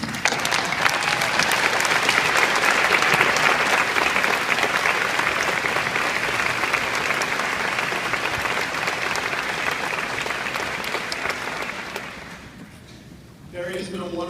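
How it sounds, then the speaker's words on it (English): Graduates at a college commencement ceremony give sustained, loud applause that fills the space for several seconds, then tapers off near the end. "Seniors, if you would you stand up with me and applaud everyone who has made this day possible for you?"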